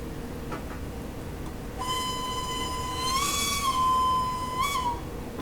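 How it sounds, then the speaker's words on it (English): The Swiss SBB Ae 3/6 II electric locomotive in Train Simulator Classic sounds its fixed-tune whistle, a steady pitched tone lasting about three seconds with a brief rise and a short final note, over faint cab hum. "There's the whistle. It is not playable. It is that tune and that tune only."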